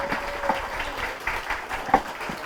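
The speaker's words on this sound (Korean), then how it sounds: "우리 마지막 이혁재 부대표 후보에게 다시 한번 큰 박수 부탁드리겠습니다" Audience applause at a Justice Party election campaign rally in Korea's Chungcheong region, a steady, moderate patter of clapping from a crowd, somewhat distant and diffuse.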